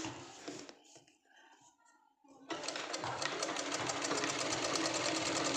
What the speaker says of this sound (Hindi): और इसको फिर से सिलाई से ऐसे अटैच कर देंगे।